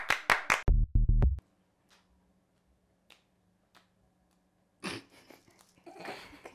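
Hands clap in a quick burst of several sharp claps at a birthday party, then the room goes quiet before another short round of clapping and voices.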